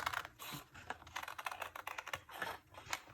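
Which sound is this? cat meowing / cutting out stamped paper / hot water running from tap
cutting out stamped paper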